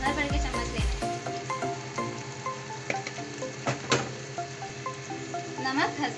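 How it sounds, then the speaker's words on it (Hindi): Spices and tomato masala for dhaba-style chana dal frying in a pan, a loud continuous sizzle with clinks and scrapes of a spoon against the pan, and background music running underneath. "अब हमें इसको टमाटर गल जाने तक भूनना है अच्छे से।"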